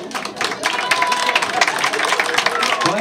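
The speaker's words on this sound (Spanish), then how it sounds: "Fuerte los aplausos." An audience at a festive gathering claps and cheers for couple number 6, a dense, lively burst of applause that continues steadily throughout, with some shouting mixed in.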